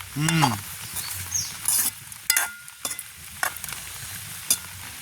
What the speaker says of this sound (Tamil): எல்லாத்தையும் சேர்த்து பிரட்டி விடுவோம்